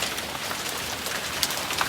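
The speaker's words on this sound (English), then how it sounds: "We have tons of hail." A hail storm pelts the ground and surfaces in a dense, continuous roar of small impacts with a few sharper clicks, steady and fairly loud throughout, with no voices.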